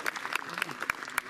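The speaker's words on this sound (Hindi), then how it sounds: "प्लीज आप लोग जोरदार तालियों के साथ हमारी हौसला अफजाई करते रहें" Applause from an audience at an award ceremony, a steady patter of many hands clapping with sharper individual claps standing out, fairly distant and continuous throughout.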